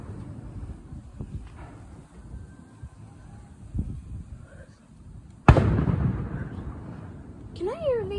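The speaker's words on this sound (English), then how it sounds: "Can I hear these fireworks all the way from the trailer park?" Distant fireworks over a lake, heard from across the water: a faint low rumble with a few soft thumps, then one sharp loud bang mid-way that decays slowly, while people chat nearby.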